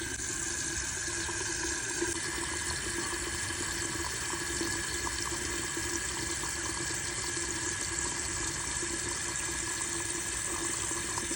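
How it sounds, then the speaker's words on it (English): Water rushes steadily into a toilet tank through a newly replaced fill valve, a continuous hissing, gurgling flow that stays close and even throughout with no voices. "you just want to wait for this toilet to fill up"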